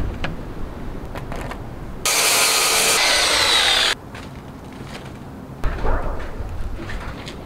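A power saw cuts wood for a chicken coop nesting box in one steady, loud burst of about two seconds, set among quieter shop handling noises.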